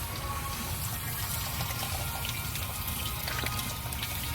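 Water flushes through a cooling system hose on a 1995 Jeep Cherokee, giving a steady, close rushing and splashing wash that runs unbroken the whole time.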